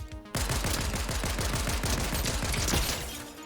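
Mythic Pistol gunfire in a competitive shooter video game, a fast run of a dozen or so sharp, evenly spaced shots fired in rapid succession, loud and close, with no talk over it.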